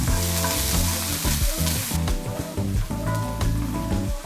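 Onions hit hot olive oil in a skillet and hiss loudly, with a busy crackling sizzle and scraping stirring sounds throughout. The sound eases slightly after the first couple of seconds.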